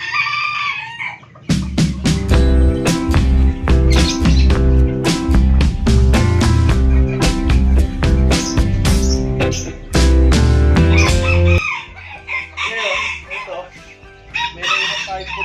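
Chickens cluck and a rooster crows loudly inside a cement-floored backyard coop, where a red cock is among the birds. The calls are close and dense, overlapping almost continuously with a few brief gaps.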